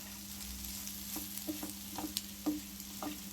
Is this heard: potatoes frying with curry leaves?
yes